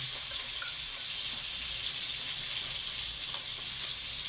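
Banana blossom sizzles and crackles steadily in a hot pan, a constant bright hiss with no talking.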